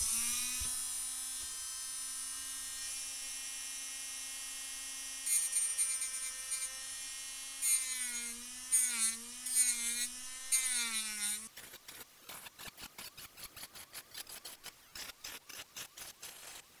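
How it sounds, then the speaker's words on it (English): A rotary tool spins up with a high, steady whine and fitted with a cutting disc slices through a plastic funnel part from a 1/200 HMS Hood model kit. The pitch wavers under load, then gives way to rapid rasping cutting bursts. "I'll use a cutting disc to go through the mark that I've made"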